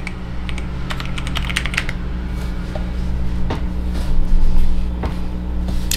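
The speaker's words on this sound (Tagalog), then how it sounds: "Ba't tayo nagtatype?" Rapid clicks of typing on a Garuda GG82G mechanical keyboard during an NKRO test, close and crisp, coming in quick bursts and then a few single keystrokes over a low background hum.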